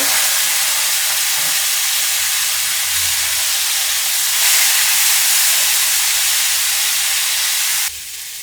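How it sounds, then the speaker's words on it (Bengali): Spice mix fries in a pan for a vegetable ghonto, a loud continuous close sizzle and hiss that swells briefly midway and then drops abruptly near the end. "মশলাটা একটু ভেজে নেব"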